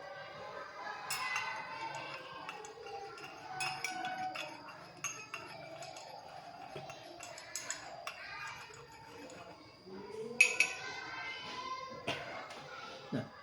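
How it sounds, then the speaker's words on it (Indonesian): A spoon stirs vitamin C into betadine solution in a glass, giving repeated light clinks and taps against the glass, faint and close, with a quiet room behind. "Kita masukkan vitamin C-nya. Kemudian kita aduk."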